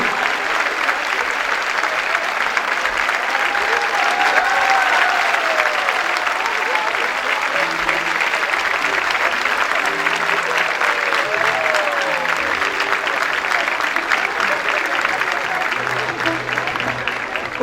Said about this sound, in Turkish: Kocaman alkışlarımız. Şefimiz Ferda Yılmaz için.